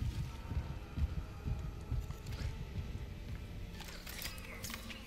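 Heartbeat effect in the Dead Space Remake game, a low rhythmic throbbing of soft repeated thumps under a faint hum, with scattered higher game noises toward the end and no talk.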